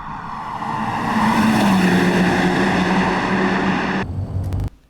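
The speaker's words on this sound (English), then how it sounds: "I think the car sounds awesome" A car engine roars loud and close during a commercial shoot at a racetrack grandstand, its pitch rising and holding for about four seconds before cutting off abruptly, followed by a brief low rumble and a sharp click.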